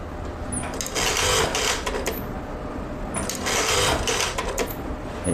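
Juki DDL 8000A industrial sewing machine running continuously with fast rhythmic stitching chatter, close and steady, swelling louder in two bursts with brief clicks of the thread-cutting knife.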